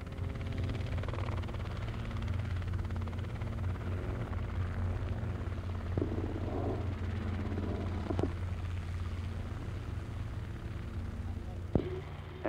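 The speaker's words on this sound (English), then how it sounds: "I'm going to do a completely power-off landing there between those two helicopters." A helicopter in a power-off autorotation landing, with its engine quit, sends a steady low rotor drone and throbbing hum throughout, with occasional knocks and clicks over the even rumble.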